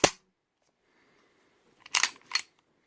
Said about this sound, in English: Double action trigger, a little heavy as you can see. Drop, reset.